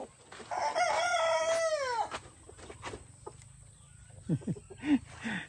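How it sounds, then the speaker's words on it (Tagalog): A rooster crows once, loud and close, followed by a few short clucking calls from a nearby white chicken and other fowl. "Yung puting manok."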